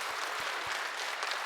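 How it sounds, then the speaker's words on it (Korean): A church congregation applauds in welcome during a Sunday service, a brief, steady wash of clapping from many hands heard from a moderate distance. "우리 주님의 이름으로 환영하며 박수하도록 하겠습니다."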